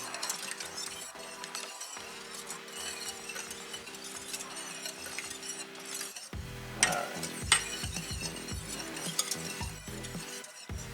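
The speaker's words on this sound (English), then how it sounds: "I'm going to go ahead and whisk it just to incorporate everything" Sugar whisked into a mixture in a pot for a 1950s caramel cream cake: busy scraping and clinking of a whisk against the pot, steady at first, then sharper, louder strokes in the final seconds.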